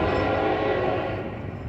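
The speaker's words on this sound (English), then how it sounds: "That's a cargo train." A cargo train passes close by with its horn blaring, a loud, sustained blast over the rumble of the moving railcars.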